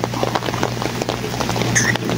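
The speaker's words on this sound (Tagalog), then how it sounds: "Naabot tayo ng ulan." Steady rain patters on surfaces nearby, a dense hissing wash with a low hum underneath.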